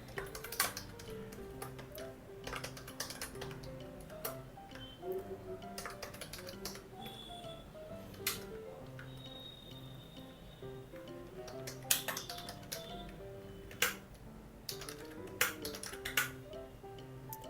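Data is typed into a spreadsheet on a computer keyboard as a run of light, irregular key clicks. The clicks come in small bursts, faint and close, over a quiet hum with soft music.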